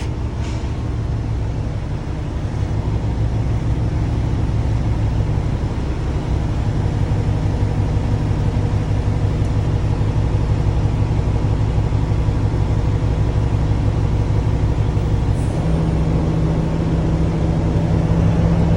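Truck engine idling steadily to build air brake pressure, a constant low diesel rumble with a faint hiss or two, heard from inside the cab with no speech.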